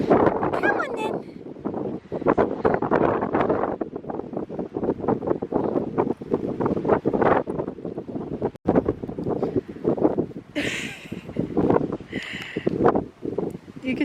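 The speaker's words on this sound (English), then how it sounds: "You can tell it's windy today." Wind gusts through an orchard on a blustery spring day, a steady broadband rush and buffeting close to the microphone, with rustling and a voice talking over it.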